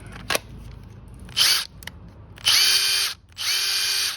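A Makita cordless impact wrench whirs in short bursts up close, a brief trigger pull followed by several longer high-pitched runs with pauses between.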